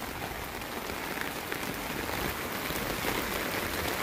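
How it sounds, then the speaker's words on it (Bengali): Heavy rain pours steadily on surfaces and an umbrella during a walk home from school, a dense, continuous hiss of drops, loud and close throughout with no voices. "কত জোরে বৃষ্টি হচ্ছে।"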